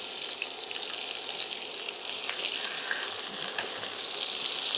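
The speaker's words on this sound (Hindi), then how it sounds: "और अब हम इसमें प्याज डाल देंगे, ये देखिए लहसुन हमारा लगभग हो चुका है" Chopped onions added to garlic sautéing in a pan for a pea and semolina pancake, sizzling and frying steadily and close up, the crackle growing slightly louder partway through, with no talking.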